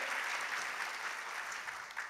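An audience applauds a contestant at the international grand final of a French dictation competition, with dense, even clapping filling the room throughout, steady and fairly close, without speech over it.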